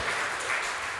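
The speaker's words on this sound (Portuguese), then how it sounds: "dê um aplauso ao Senhor Jesus" A church congregation gives a brief burst of applause, a dense, even wash of clapping that carries on steadily without any talking.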